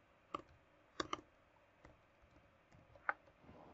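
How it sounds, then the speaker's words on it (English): Keys on a computer keyboard are tapped while entering text into a spreadsheet cell, giving a few faint, irregular clicks with short pauses between them in a quiet room. "If I click on B1, I can add some other data. For example, I'll just type my name."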